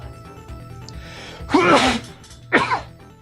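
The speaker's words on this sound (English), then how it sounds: "now I'm going to sneeze." A single person sneezes twice in quick succession, each burst sharp and close, over a steady low background hum with no talk.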